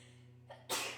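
A single sharp sneeze bursts out near the end, loud and close after a brief intake of breath, with no talking over it.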